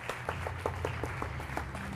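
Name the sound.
audience applause at an education conference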